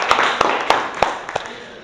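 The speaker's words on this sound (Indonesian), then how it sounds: "kita beri aplaus atau tepuk tangan dulu untuk kesimpulan dari Widya" Schoolchildren in an Indonesian classroom giving a short burst of hand claps, a handful of sharp, separate claps close by that fade out quickly.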